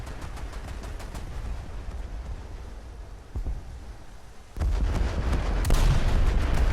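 Boat guns in War Thunder fire in repeated sharp bursts at close range, growing louder and denser toward the end over a steady engine-like rumble.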